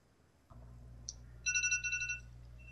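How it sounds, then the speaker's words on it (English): A phone alarm ringtone goes off alone as a short, bright repeating electronic melody of rapid beeps over a low steady hum, close and moderately loud. "that's my alarm for me who was gonna take a nap."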